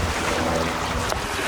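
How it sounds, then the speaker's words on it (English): Strong wind gusts buffet the microphone aboard a sailboat on a lake in nasty weather, a constant roar with water and wave wash underneath, close and loud with no talk. "A few strong gusts."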